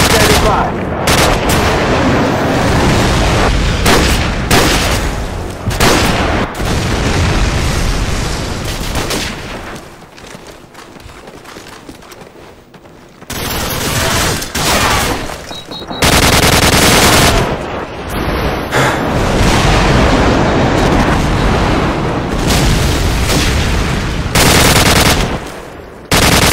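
Dense, loud video-game gunfire with rapid machine-gun bursts and booming airstrike explosions in a free-for-all match, continuous across most of the stretch with a brief quieter lull midway.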